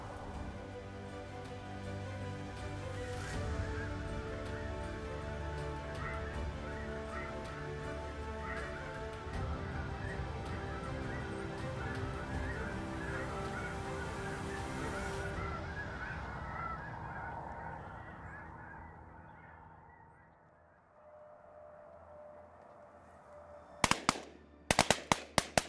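A large flock of snow geese honks continuously in a dense, overlapping chorus during the Arkansas spring conservation season. The calls fade away toward the end, and a few sharp, loud bursts follow.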